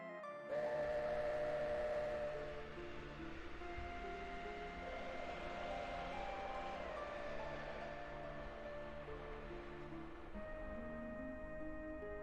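A train in the video game Final Fantasy 7 gives a steady, moderately quiet rumble with a faint metallic whine, holding evenly throughout with no voices.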